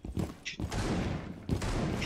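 Gunfire in Rainbow Six Siege, two sharp booming shots about a second apart, close and loud, each trailing into a rough echoing tail.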